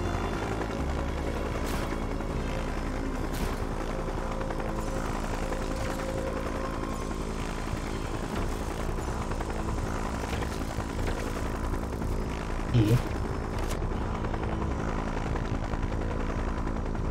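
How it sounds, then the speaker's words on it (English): Helicopter in the video game Just Cause 3, a steady droning rotor and engine hum that holds for the whole stretch at even loudness, with a brief knock near the end and no speech. "how do I get the chopper to hold"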